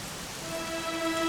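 Steady rain falls in the fantasy role-playing game Dragon Quest XI, a soft continuous hiss that swells slightly louder toward the end, with faint sustained musical tones underneath and no talking.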